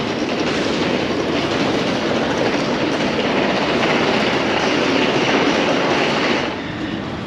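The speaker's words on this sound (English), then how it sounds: "This TGV is actually bound for Montpellier." TGV high-speed train in a station in Luxembourg, heard as a loud, steady broadband rumble and roar lasting several seconds, close by, easing slightly at the end, with no talking.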